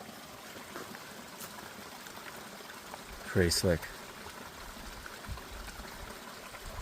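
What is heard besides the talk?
small stream of water trickling beside a hiking trail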